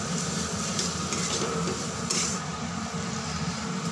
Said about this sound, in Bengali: টমেটো কুচিটা গলে যাওয়া পর্যন্ত কিছুক্ষণ কষিয়ে নেব মশলার সঙ্গে।